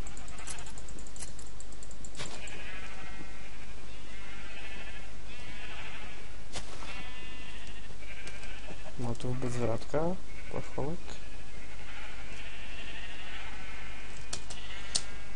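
In the Pixel Multiplayer Golden Craft video game, sheep bleat in a short cluster of nasal calls, clearly heard while a person talks over them.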